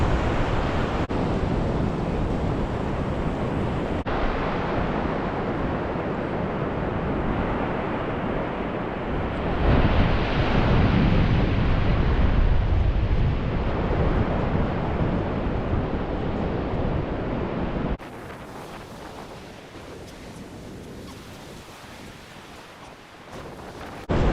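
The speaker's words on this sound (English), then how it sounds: "This is definitely a really nice beach" Surf rolls steadily onto a beach, a continuous loud wash of waves heavily mixed with wind buffeting the microphone, easing somewhat toward the end.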